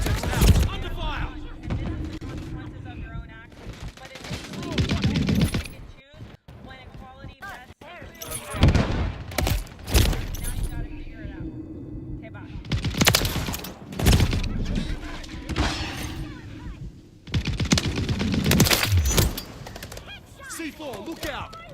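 Rapid bursts of automatic gunfire and explosions in a Modern Warfare 3 online match, loud volleys repeating in clusters with short gaps, with a player voice talking in between.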